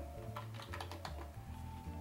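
Typing on a computer keyboard, a brisk run of close, crisp key clicks at an irregular pace over a faint background hum.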